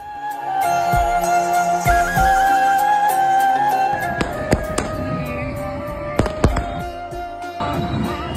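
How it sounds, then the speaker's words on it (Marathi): Fireworks crackle and pop in bursts, with sharp bangs standing out over a busy, tonal background sound. "फटाक्यांची आतिषबाजी देखील करण्यात आली"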